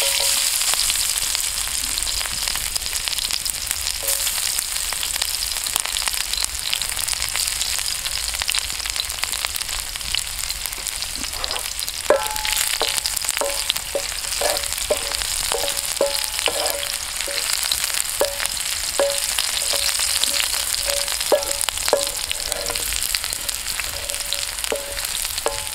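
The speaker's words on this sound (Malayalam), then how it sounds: "അപ്പോൾ അതിലേക്ക് നമുക്ക് ചെറിയുള്ളി ആഡ് ചെയ്യാം." Shallots frying in oil in a pan for a tender coconut curry, a steady close sizzle throughout with soft clinks of stirring in the latter half.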